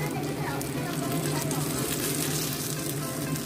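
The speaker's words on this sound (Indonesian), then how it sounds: "Jadi kita goreng cukup menggunakan api kecil atau api sedang." Shrimp-stuffed tofu fries in a small amount of oil over low to medium heat, giving a steady, dense sizzle throughout, with a voice talking over it.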